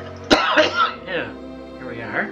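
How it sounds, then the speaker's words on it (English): A single sharp cough or throat clear sounds close up, followed right away by a person speaking. "whenever I start recording I need to cough"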